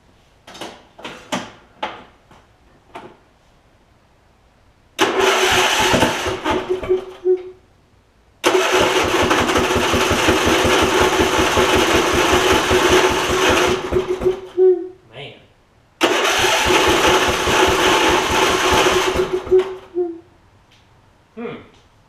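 A Husqvarna riding mower with a Briggs V-twin engine that has stopped running is cranked by its starter in three long, loud, rhythmic bursts without catching, each separated by silence, after a few clicks and clunks.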